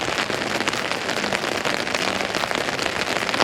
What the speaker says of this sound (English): It's supposed to rain like this all day.